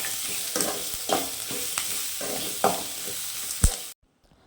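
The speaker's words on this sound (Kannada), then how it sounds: "ಮೆಣಸು, ಟೊಮೊಟೊ ಎಲ್ಲ ಹಾಕಿ ಚೆನ್ನಾಗಿ ಫ್ರೈ ಮಾಡ್ಕೋಬೇಕು" Chilies and tomatoes fry and sizzle in a pan for bassaru, with a few distinct stirring scrapes up close before the sound cuts off abruptly, and no talking.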